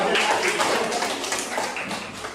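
Children clapping their hands together in a classroom, a steady patter of many small claps running throughout, with voices talking over it.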